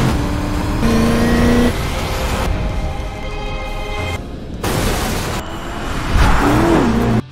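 Racing car speeding at high speed, a loud close roar with revving engine tones that cut between shots, rising to a surging whine near the end, with no talk.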